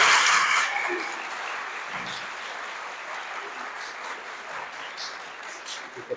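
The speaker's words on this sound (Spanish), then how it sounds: "Por favor, recibamos con un fuerte aplauso" Audience applause for a speaker being welcomed at a formal event in Mexico, dense clapping from a crowd that is loudest at the start and holds steady through the rest, with a faint voice beneath.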